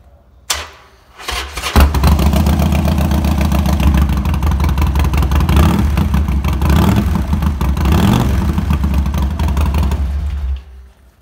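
A 2012 Harley-Davidson XL1200X Forty-Eight with low mileage and a lithium battery cranks briefly, then fires into a loud, close, lumpy idle that holds steady for several seconds before cutting off abruptly.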